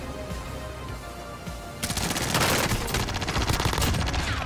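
A PPSh-41 submachine gun rattling off a long, rapid automatic burst in Call of Duty Warzone, loud and close, kicking in after a quieter stretch of game ambience.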